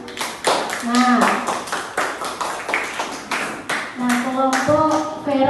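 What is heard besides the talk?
class clapping hands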